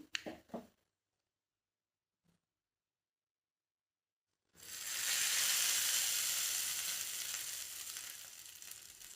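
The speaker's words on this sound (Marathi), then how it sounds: "थोडस हिंगाची आपण याला फोडणी टाकणार आहोत" Dried red chillies and asafoetida dropped into hot oil for a chutney tempering. A few soft taps give way, after a silent pause, to a sudden loud, sustained hiss of sizzling oil that slowly eases, with no voices.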